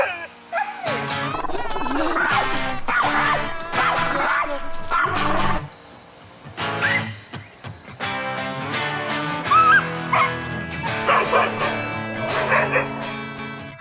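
Small Yorkshire terrier barking aggressively, loud, close and repeated: sharp yaps in quick bursts with yips and whimpers mixed in, a brief pause midway, then more frantic barking.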